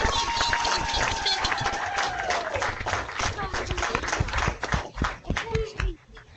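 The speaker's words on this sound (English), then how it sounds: "please join me in giving a warm round of applause" An online audience with unmuted microphones applauds to welcome Pro Football Hall of Famer Willie Lanier. The clapping is loud and continuous, then thins out and fades near the end, with voices and a whistle-like tone mixed in.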